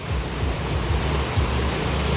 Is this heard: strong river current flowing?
yes